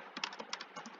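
Quiet, fast keystrokes patter on a computer keyboard while SQL code is typed, a short steady run of close clicks with no talk.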